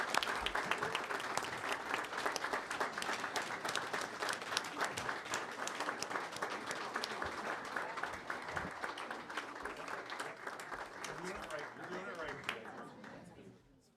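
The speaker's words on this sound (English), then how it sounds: "Please join us in a round of applause for our elementary and preschool principals." Sustained applause from a school board meeting audience for elementary and preschool principals, a dense wash of many hands clapping steadily for about thirteen seconds before fading out at the end.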